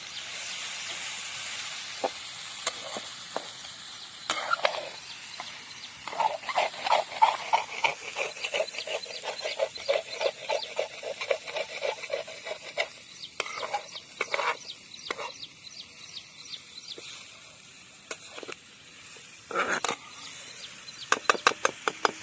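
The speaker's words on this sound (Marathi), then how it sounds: "तर आता हे थोडा वेळ असं हलवून घ्यायचं आहे तर मसाले आणि मिरची चांगली मिक्स करून घ्यायची आहे" A spiced dry cluster bean (gavar) vegetable is stirred in a pan in a village kitchen, with a steady run of scraping, clinking spatula strokes over a soft sizzle that continues throughout, close and moderately loud.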